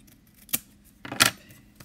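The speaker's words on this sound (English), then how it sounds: "now we're going to cut this off again" Paper being cut with scissors during a Stampin' Up card craft, two quick crisp snips about half a second apart, the second louder and longer, close by in a quiet room.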